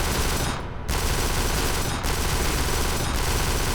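Kane and Lynch 2 gunfire, with dense sustained automatic shooting that is loud and close, broken by a few brief gaps.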